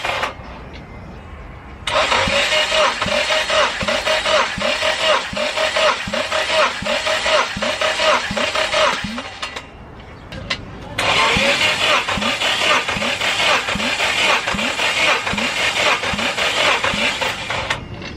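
Junkyard car engine cranking on the starter during a compression check, two long bursts of rhythmic chugging with a whining starter tone, separated by a short pause, loud and close.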